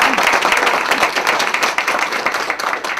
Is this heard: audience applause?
yes